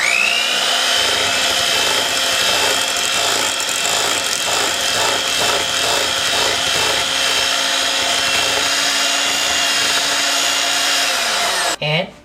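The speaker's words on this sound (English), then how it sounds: "You're going to beat that over until nice and vibrant raspberry." An electric mixer whirs at a steady pitch, beating cheesecake filling with raspberry powder for a no-bake Neufchâtel cheesecake, loud and close, with faint rhythmic thumps against the bowl before it cuts off at the end.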